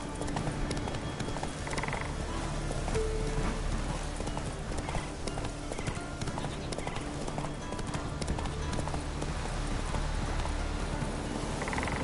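Hooves of Roach, Geralt's horse in The Witcher 3, clip-clop steadily and continuously in a game scene, a brisk rhythmic trot over ambient background with a few faint animal-like croaks.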